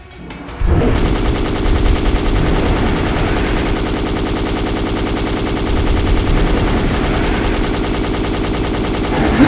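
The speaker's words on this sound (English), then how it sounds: "I said I would show you guys the heavy machine gun." A heavy machine gun in the Dino Crisis 2 video game fires as one loud, rapid, unbroken burst. It starts after a brief quiet moment and sustains a fast mechanical rattle for about nine seconds.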